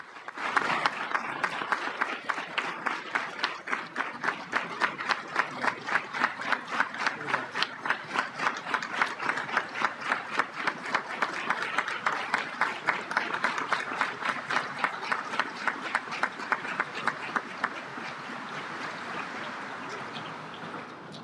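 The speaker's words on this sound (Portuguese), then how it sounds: "ministros e convidados aplaudem de pé" Ministers and guests give a standing ovation in a court plenary session at a swearing-in ceremony. Sustained, dense applause with steady rapid clapping fills the hall for about twenty seconds with no gaps.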